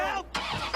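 A car engine starts in the video game Watch Dogs 2 during a car theft, a short loud burst of cranking that catches and roars into a running engine.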